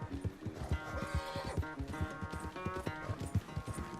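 A horse galloping in Red Dead Redemption 2, rapid rhythmic hoofbeats thudding close and loud in a steady running pattern with jingling tack and faint background sounds.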